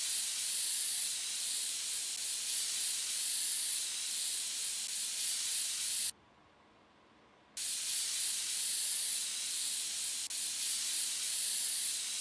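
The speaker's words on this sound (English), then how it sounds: "Let's grab some compressed air." Compressed air sprays dust out of a white PC case in PC Building Simulator, giving a loud, steady hiss that runs for several seconds, stops briefly, then starts again with no one talking.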